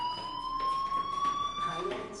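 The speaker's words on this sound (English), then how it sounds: "Hey, do you hear that fire alarm?" A fire alarm in the video game Life is Strange sounds a steady electronic tone with a pulsing edge, continuous and moderately loud throughout.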